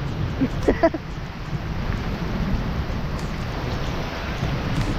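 Steady rain hisses across the whole stretch, with a low rumbling wash underneath and a few faint, brief sounds near the start.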